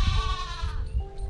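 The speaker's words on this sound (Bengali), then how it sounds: "ভাই ছাগল কি ডাকছে" Goats bleat nearby outdoors, a loud, wavering bleat followed by a shorter, fainter one.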